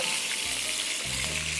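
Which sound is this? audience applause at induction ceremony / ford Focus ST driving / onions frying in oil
onions frying in oil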